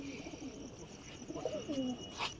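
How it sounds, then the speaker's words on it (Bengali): Pigeons at a loft coo softly, with several low throaty warbling calls and a brief higher chirp, fairly close over faint background noise. "ওর একটা কালাঙ্কা পায়রা আমি দেখাচ্ছি"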